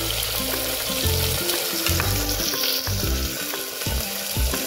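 Tomato, black pepper, cinnamon, cardamom and ginger garlic paste frying in a pan for palak mutton, giving a loud, continuous close sizzle with bursts of spattering and stirring scrapes, and no one talking over it.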